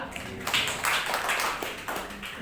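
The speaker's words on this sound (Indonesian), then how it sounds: "Tepuk tangan untuk Tuhan." A church congregation claps together in a steady, dense burst of applause during a sermon, with faint voices mixed in.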